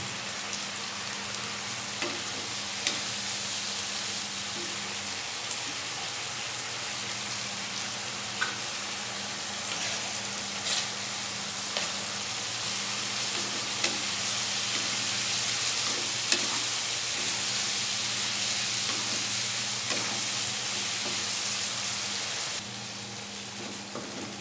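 Shrimp and green spring onion sizzle and fry steadily in a pan, with occasional soft stirring scrapes over a continuous broadband crackle; no voices.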